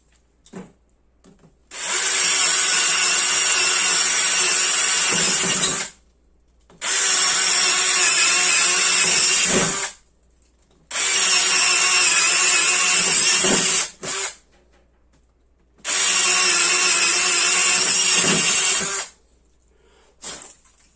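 A Craftsman CMCD720D2 brushless drill bores into wood in four loud, sustained bursts of about three to four seconds each, separated by short pauses. No one speaks.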